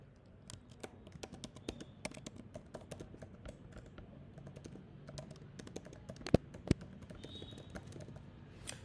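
Keys clatter on a computer keyboard while a SOQL query is typed, with quick irregular taps and short bursts that run continuously. Two sharper clicks stand out near the end, all fairly quiet and close.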